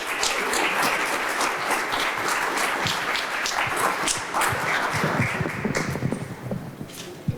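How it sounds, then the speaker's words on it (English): A crowd at a membership meeting applauds, a dense patter of clapping from many hands that holds steady and then thins out toward the end. "Another round of applause for our unbelievable leaders here."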